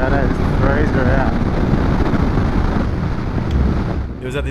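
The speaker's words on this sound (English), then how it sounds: "Due to the high winds, the high wind resistance" Heavy wind roars and buffets the microphone in a continuous rumble, with a motorcycle's drone underneath and faint voices briefly breaking through, on a long-distance adventure ride in high winds.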